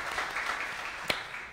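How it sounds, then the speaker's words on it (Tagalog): A church congregation at a sermon applauds, steady massed clapping throughout with one sharp louder clap standing out near the end. "Palakpak po para kay Jesus."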